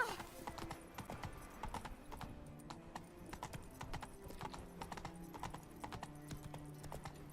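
Geralt's horse Roach trotting in The Witcher 3, hooves clip-clopping in a steady, even rhythm throughout, moderately close, with faint game ambience underneath.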